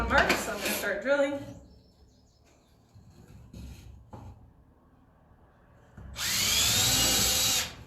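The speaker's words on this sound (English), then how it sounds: "I have one mark, so I'm going to start drilling" A power drill bores holes into a board for a hanging planter, a loud sustained whine starting near the end, preceded by softer clatter, tool handling and a short voice at the beginning.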